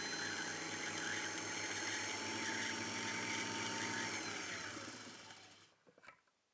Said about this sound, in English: Press the foot pedal to wind the bobbin until you have sufficient thread on.